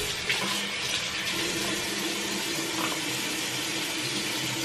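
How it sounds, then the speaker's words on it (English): Tap water runs steadily into a sink while a facial mask is rinsed off, a continuous close splashing rush with small irregular changes and nobody talking. "And I'm going to wash it off now."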